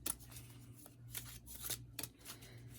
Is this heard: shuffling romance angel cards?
yes